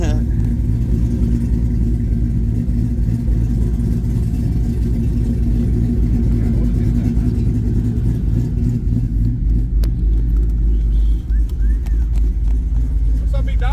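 A truck's engine revs hard with a steady low rumble and tire-spinning roar throughout, close and loud, while people talk and shout over it.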